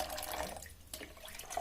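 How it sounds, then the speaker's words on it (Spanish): Water poured into a container sitting on a kitchen scale, weighed out to make an infusion for a homemade marigold hair cream; a steady close trickle and splash that briefly thins, then resumes. "Y ahora vamos a pesar nuestra agua, porque vamos a hacer una infusión."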